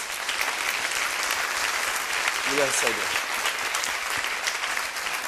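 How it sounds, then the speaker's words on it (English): An audience at the Empowering Women To Succeed 2017 event gives a sustained, dense round of applause, with a voice speaking briefly over the clapping. "Please give him a round of applause."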